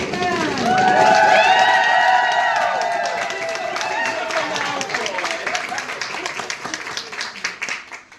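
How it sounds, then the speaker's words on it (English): Audience at a book launch party clapping and cheering for the author, starting with excited voices and whoops over applause, then settling into a steady round of clapping that thins out toward the end. "Can we get a big dramatic drum roll and a round of applause for Mr. Irvin Khaytman?"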